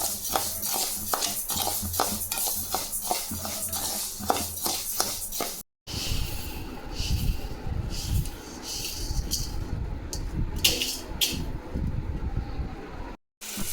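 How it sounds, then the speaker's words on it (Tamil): Parboiled rice dry roasting in a pan, stirred steadily so the grains give a continuous dry rustle and scrape with a few light clinks, loud and close, broken by two brief silences. "சாப்பாட்டு அரிசி புழுங்கல் அரிசி இதையும் வறுத்து எடுத்துக்கலாம்"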